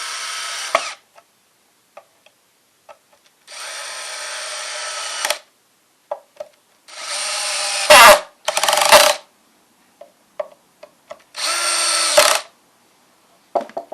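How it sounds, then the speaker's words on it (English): A power drill whirs in several short bursts of a few seconds each, separated by pauses with small clicks and taps, close and loud. "Just to speed things along, we'll use the drill."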